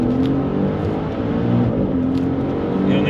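A Maserati Levante Trofeo SUV powers out of a corner, its engine note climbing in a steady, loud drone with no voices over it.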